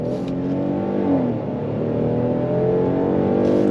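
A 2025 Kia Telluride S midsize three-row SUV accelerates under throttle with a steady engine drone that rises in pitch, heard from inside the cabin without any talking.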